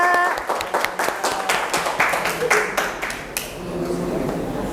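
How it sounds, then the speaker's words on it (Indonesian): A hospitality classroom claps for a student group, a burst of distinct, close hand claps in an uneven rhythm that thins out and fades near the end, leaving a room murmur. "Oke, tepuk tangan dulu dong"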